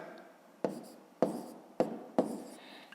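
Pen or pencil writing numbers by hand on paper during a fifth-grade maths exercise: four short scratchy strokes in a row, close and quiet, with no talk.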